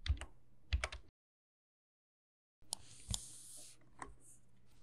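Typing on a computer keyboard while entering a message in a Bitcoin wallet: a few close key clicks, a pause of silence, then a quicker run of taps.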